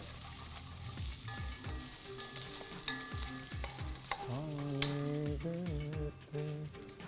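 Cumin, crushed chili, ginger and onion fry for paneer bhurji masala with a crackling sizzle. Repeated spatula scrapes and stirs land close by, and a faint tonal hum sits in the background.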